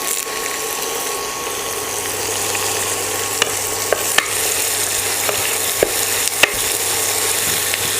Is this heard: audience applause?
no